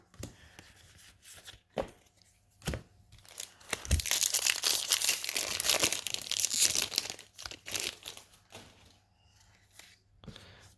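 Crinkly plastic wrappers of Theros Beyond Death Magic card booster packs crackle and tear, with scattered sharp rustles building into a dense stretch of crumpling before easing back to intermittent handling noises.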